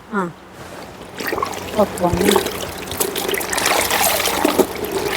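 Water splashes and trickles in short bursts, pouring and dribbling close by, while a person talks over it.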